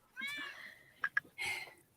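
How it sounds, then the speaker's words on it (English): A house cat meows twice in close succession, with a couple of short chirping squeaks between the calls, near and fairly clear against a quiet background. "I have a vocal cat."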